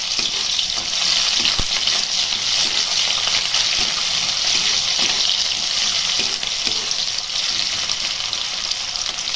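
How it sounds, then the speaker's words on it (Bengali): Chopped onion fries in oil with whole cumin and bay leaf, making a loud, continuous close sizzle with occasional stirring scrapes. "তো পেঁয়াজটাকে একটু ভালো করে ভেজে নিতে হবে।"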